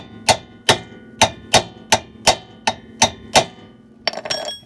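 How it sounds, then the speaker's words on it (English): Nine sharp metal-on-metal hammer blows land at a steady pace on the ball joint nut of a car, with an Acura Integra's suspension under work, each strike ringing briefly, followed by a scrape. "you just want to hit it with the hammer right here a couple times"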